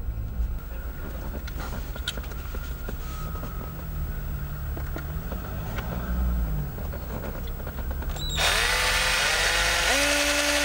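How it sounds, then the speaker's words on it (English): A power drill bores a hole in the console of a Nissan Qashqai J10, its motor whining in repeated bursts with shifting pitch, then a louder, harsher stretch near the end. "now we need to drill a hole in the console"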